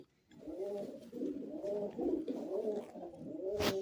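A pet pigeon held firmly in the hand for treatment of a cold gives a run of soft, repeated cooing calls close up, ending with a brief rustle or handling noise.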